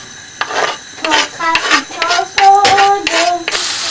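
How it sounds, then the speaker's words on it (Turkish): Onions dropped into a pot for a Turkish hodan and ispıt greens sauté, with a series of close, bright rustling bursts of stirring and faint sizzle, each stroke lasting under a second, with no talk. "Şimdi soğanlarımızı tenceremize atıyoruz."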